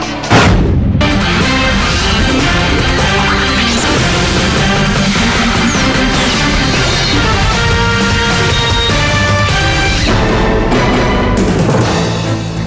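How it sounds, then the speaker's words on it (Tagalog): Explosions tear through a fireworks factory in Angat, Bulacan at night, a dense, continuous roar of booms and crackling blasts that stays loud and unbroken throughout, with no voices. "Ang napapanood niyo po ay kuha sa isang pabrika ng paputok sa Angat, Bulacan, kung saan nagkaroon ng pagsabog ngayong gabi"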